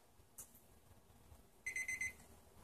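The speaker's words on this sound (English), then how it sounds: "there's your timer" A timer alarm goes off with four quick, evenly spaced electronic beeps, bright and close, after a soft click, then starts another beep at the end over a quiet room.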